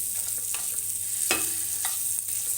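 Spiced masala dry-roasting in a pan for a village-style fish curry, a steady hiss of heat under a few sharp scrapes and stirring clicks, close and moderately loud with no talking.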